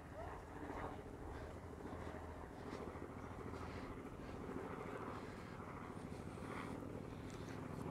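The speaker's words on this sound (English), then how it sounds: "And there's an annoying helicopter, wish you would go away." A helicopter drones overhead as a faint, steady rumble mixed with wind noise, continuous and distant, with no clear approach or fade.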